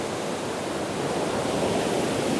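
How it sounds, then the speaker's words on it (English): Waterfalls at Burgess Falls State Park, Tennessee, a steady, dense broadband rush of falling water with no breaks, heard from a distance with no voices. "See, there's the bigger waterfalls over there."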